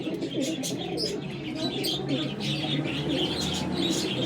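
Rooftop flying pigeons coo and chirp together in a steady throaty chorus, with light rustling under the calls and faint voices in the background.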